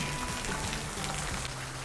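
Rain falls steadily on laundry hanging outdoors in a backyard homestead, a close, even patter of drops with no voices and no pauses.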